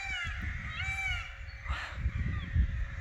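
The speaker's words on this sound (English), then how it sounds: "It's just like sitting in a bird cage. It's just bird song everywhere." Several birds call at once at a stately home, harsh cawing and honking cries over a steady low rumble, fairly close and continuous.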